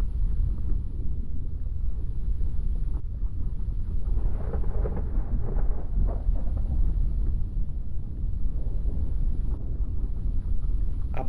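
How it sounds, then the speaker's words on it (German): Rain and thunder in the PS5 game Shattered: Tale of the Forgotten King, a steady low roar of storm and rumbling thunder rolling on continuously at moderate volume with no talking. "Es regnet, es donnert."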